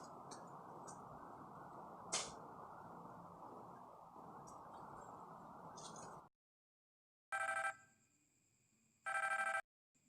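A telephone rings with two loud, clear bursts of electronic ringing after a stretch of steady background noise and a brief silence, close and alone without talk.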